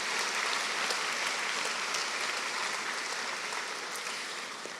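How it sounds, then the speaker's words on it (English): Certificate graduates in pastoral ministry receive a sustained, dense round of applause from the audience at a graduation ceremony, steady and fairly loud before it tapers off slightly near the end. "a big round of applause for our certificate in pastoral ministry graduates this morning"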